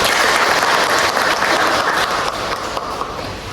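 A class of fifth-grade schoolchildren clapping together in a steady burst of applause, loud and dense, tapering slightly toward the end.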